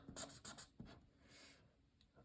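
A pen scratches quickly across a game sheet to cross off a heart, a few faint, close scribbling strokes on paper in a quiet room.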